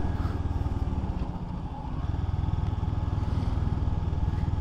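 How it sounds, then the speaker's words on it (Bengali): A motorcycle engine thumps with a steady, throbbing exhaust note, close and loud, holding an even pace throughout. "এক্সজস্ট নোট আমি ফিল করছি আমার বাইকটাতে।"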